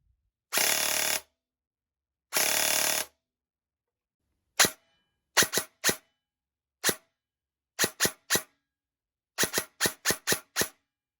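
A DSG airsoft gun fires two long continuous full-auto bursts, each lasting about a second or more, followed by a series of sharp single semi-auto shots, some in quick pairs and triplets, loud and close with no talking.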